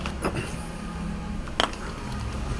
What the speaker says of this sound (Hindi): इसके साथ ही एक रोड जा रहा है, तो ट्रैफिक की आवाज़ तो मुसलसल आती रहेगी।